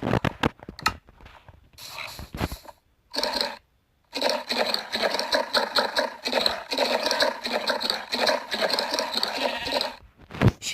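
A donkey in the Minecraft video game braying in repeated harsh, bleating bursts, close and loud, with short gaps between calls and no talk.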